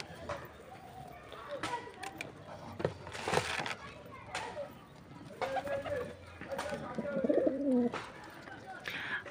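Pigeons coo and flutter close by while being fed, soft calls and scattered wing and pecking noises with brief clicks and knocks throughout, a voice speaking at times among them.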